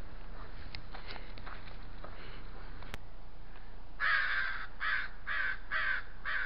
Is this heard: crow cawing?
yes